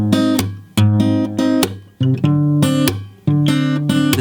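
Acoustic guitar picks out the first two lines of the bridge of the Toy Story theme, in a close, solo run of strummed chords and single-note licks with slap accents and short pauses between phrases.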